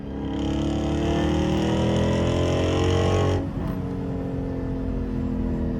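A Dodge Hellcat's engine revs loud and close, its tone rising for a few seconds before the throttle lifts suddenly and it settles into a lower rumble, with no voices.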